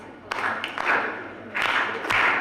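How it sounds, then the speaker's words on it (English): A church congregation at an Igbo Anglican Easter Sunday service claps hands in uneven bursts, a dense crowd patter swelling and easing over a couple of seconds in a reverberant space. "We are going to clap now."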